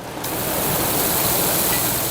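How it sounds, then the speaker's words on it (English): Cooling fans and water soakers at a dairy farm keeping cows cool in summer heat, producing a dense, constant rushing wash of noise that stays steady and loud throughout. "The noise is constant at J&K Dairy, from fans to water soakers."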